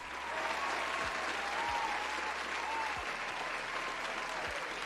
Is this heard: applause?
yes